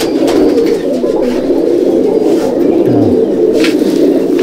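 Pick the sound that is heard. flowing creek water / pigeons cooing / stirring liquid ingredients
pigeons cooing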